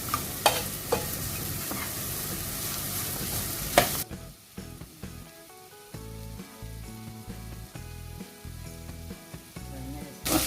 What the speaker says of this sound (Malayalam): ഇത് ഒന്ന് സ്മൂത്ത് ആവണ വരെ, ഒന്ന് നല്ലോണം വാടുന്ന വരയ്ക്ക് ഇളക്കും